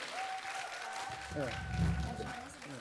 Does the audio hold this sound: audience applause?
yes